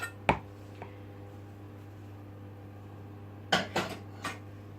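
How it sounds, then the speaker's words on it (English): A utensil scrapes a warm mixture out of a saucepan for parkin, giving a few quiet, close metallic clinks and scrapes. There is a single knock early on and a cluster of three near the end, over a low steady hum. "making sure you scrape everything out the bottom"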